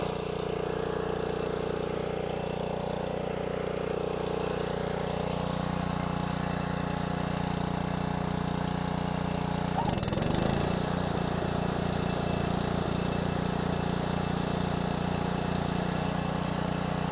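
A DR Power walk-behind brush mower engine runs at a steady idle nearby, then a clunk and a shift in tone around the middle as the blade engages and spins underneath, continuing on at a steady drone.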